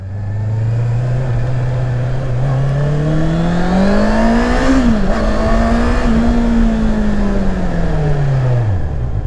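A 2020 Honda CBR650R four-cylinder motorcycle engine revs steadily, pitch climbing smoothly then easing back down, loud and close with no voices.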